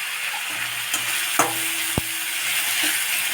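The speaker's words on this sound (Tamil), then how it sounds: "இஞ்சி பூண்டு விழுது கொஞ்சம் சேர்த்தாச்சு." Ginger garlic paste sizzling and frying in a pan, stirred now and then for a hotel-style makana gravy; a steady close hiss with a few soft scrapes and one sharp clink of the spoon, no voices.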